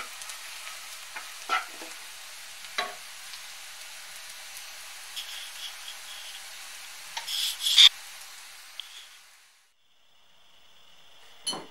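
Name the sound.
sausage frying in a pan with a little oil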